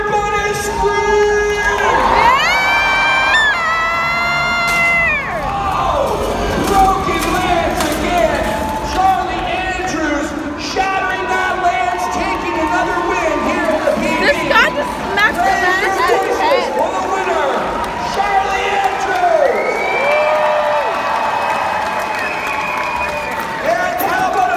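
A crowd at a jousting event screams and cheers throughout, with excited shouting and applause swelling and easing, while a loud announcer's voice rises over the din.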